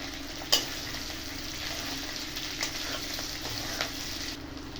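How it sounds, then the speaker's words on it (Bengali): Potato pieces and slit green chillies frying in ghee in a kadai, a faint, even sizzle at close range with a couple of soft knocks from a utensil, and no one speaking. "ঘিতে আলুটাকে ভালো করে একটু ভেজে নেবো আগে"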